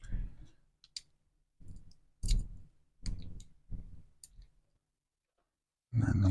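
Screws driven into Millennium Falcon model kit parts make a handful of close clicking, ratcheting bursts separated by short pauses, then a louder rustling thump at the end.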